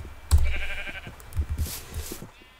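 Sheep in the video game Minecraft Education Edition bleat in a few short, close cries spaced across a couple of seconds.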